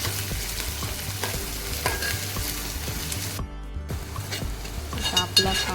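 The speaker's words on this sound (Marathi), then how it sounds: "आपला कांदा थोडा शिजू देऊया" Onion sautéing in a pan, a steady sizzle with rhythmic stirring scrapes ticking roughly twice a second, close up, with a brief quiet gap midway before the frying resumes.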